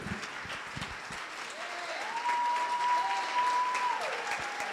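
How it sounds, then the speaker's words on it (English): A standing ovation fills a hall at a Women's History program, steady applause from the whole room with a few whoops and a long sustained tone rising above the clapping midway. "Standing ovation, please. Standing ovation."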